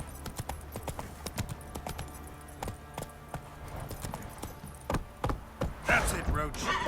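Horse Roach's hooves in The Witcher 3 clip-clop in a steady walking rhythm, fairly close and clear, with a louder scuffle of hoof strikes near the end.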